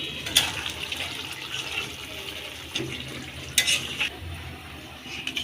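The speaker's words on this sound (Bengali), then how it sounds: "খিচুড়ির মধ্যে পরিমাণ মতো পানি দিছি" Water is poured into a pot of khichuri made with rice, red lentils and vegetables, a close splashing, running flow with a few sharper clinks and splashes, with no talk over it.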